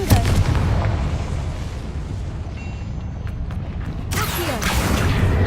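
Confringo fire spell explosion in the game Hogwarts Legacy: a sustained loud booming rumble with crackling bursts, swelling again into a bright blast near the end.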